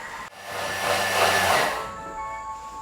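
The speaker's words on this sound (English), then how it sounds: "So how long do you normally blend your coconut milk for?" A Thermomix blends homemade coconut milk, a loud rushing whir that swells to a peak and then cuts off, leaving a faint fading hum.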